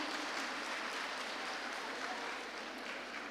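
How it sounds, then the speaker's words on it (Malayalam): Audience applause for a welcome dance at a Leeds regional cultural event, a steady, dense wash of clapping from a crowd that holds evenly throughout and fades very slightly near the end. "നല്ലൊരു കയ്യടി കൊടുക്കാമോ ലീഡ്സ് റീജിയന്?"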